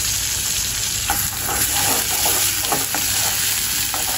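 Lentils frying with spices in a pan for dal bhuna, a steady broadband sizzle with periodic scraping stirs of a spatula, close and continuous with no talk.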